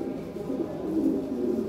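A jumbo-sized Lahore Siraji pigeon coos softly in a low, throaty, continuous murmur, close by and fairly quiet, with no talking.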